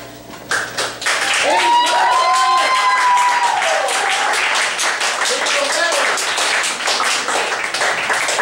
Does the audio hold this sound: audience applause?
yes